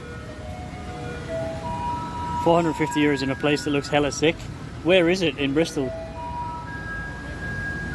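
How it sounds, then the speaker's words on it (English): A garbage truck plays its jingle on a Taipei street, a bright electronic melody of warbling tones in bursts, heard close and loud with a person talking over it. "It's not an ice cream truck, that's the garbage truck."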